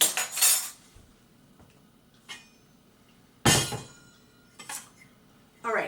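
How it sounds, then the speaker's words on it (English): A metal saucepan knocks and clinks in a few sharp, separate bursts while apple cider vinegar brine for jalapeno cowboy candy is started, close by, with quiet gaps between. "So I have a saucepan here, and what I'm going to do is we are going to make the brine to pour over the jalapenos."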